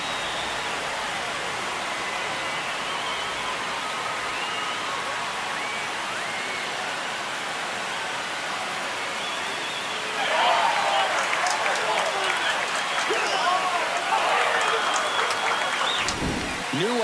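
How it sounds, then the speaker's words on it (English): A baseball stadium crowd at Oracle Park swells into a loud roaring cheer after a home run in a Yankees versus Giants game, a broad wash of noise rising sharply midway under a commentator's continuing voice. "Here comes the crowd."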